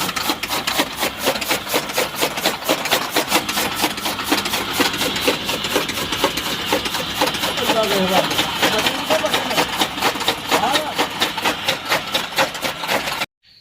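An electric motor drives a fodder chaff cutter chopping green fodder, a loud rapid rhythmic chopping whir that pulses steadily and evenly before cutting off abruptly at the end.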